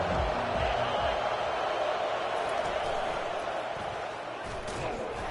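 Dense, continuous stadium crowd roar from a College Football 25 game on fourth down, loud and steady throughout, with faint thumps mixed in.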